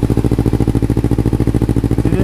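A Kawasaki Z300 motorcycle fitted with a Musarri exhaust idles close to the microphone, giving a steady, loud, rapid low-pitched pulsing throb that holds even throughout with no speech.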